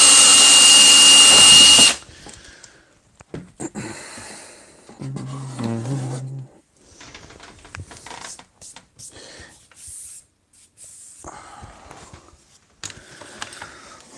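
A power drill runs loudly for a couple of seconds before stopping, followed by quieter handling clatter, brief mechanical whirs and scattered knocks.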